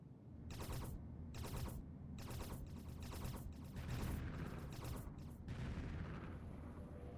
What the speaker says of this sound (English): Your point defense turrets shot down incoming asteroids.